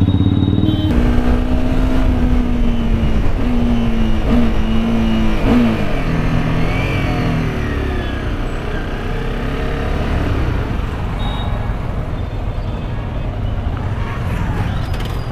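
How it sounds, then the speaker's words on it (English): A Honda CBR250R motorcycle is ridden close by as its engine pitch drops in steps through several downshifts with brief rev-matching blips, then holds a lower, steady drone beneath constant wind rush. "I'm still trying the rev matching thing while downshifting."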